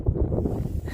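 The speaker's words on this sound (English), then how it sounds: "It was raining, it's a bit windy, but let's go." Wind gusting on a rainy, windy morning outdoors, a steady low rumble buffeting the microphone for about a second with no voices.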